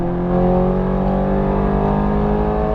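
A Ferrari F430 Scuderia at full throttle on a race track at Las Vegas Motor Speedway, its engine a loud, sustained, rising drone heard close from inside, with no talk over it.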